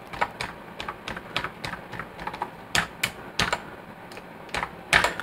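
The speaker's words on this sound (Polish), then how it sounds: "Dajemy Enter, podajemy hasło użytkownika." A password is typed on a computer keyboard, a run of close, crisp key clicks in an uneven rhythm ending with a firmer press of the Enter key.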